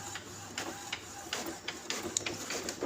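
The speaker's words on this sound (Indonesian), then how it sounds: "ini coba kita tes print lagi 1 lembar" An Epson L310 inkjet printer printing a test page after repair, with a steady mechanical whir and rhythmic clicking and rattling of the paper feed and print head, close and moderately quiet.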